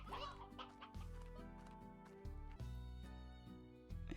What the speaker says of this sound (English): holy crap, the chickens are multiplying out here